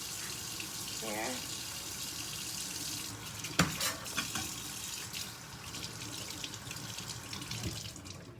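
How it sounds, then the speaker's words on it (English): Tap water runs steadily into a sink while pork chops are rinsed, a soft constant splashing stream with a brief louder clatter midway. "You want to wash your meat off to get all that nastiness off of it."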